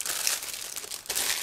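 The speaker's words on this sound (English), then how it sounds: "Now just give me a second to open another plastic bag" Crinkling of a sealed plastic bag being opened, holding small parts from an IBG Models 1/72 Scammell SV2S heavy breakdown tractor kit; close, continuous rustle with a brief pause before a louder burst, no talk.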